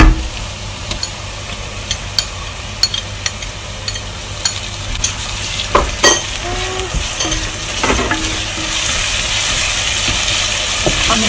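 Ginger frying with browned onions in a pan, a steady bright sizzle throughout with scattered stirring clicks and scrapes, close and clear, with no talk.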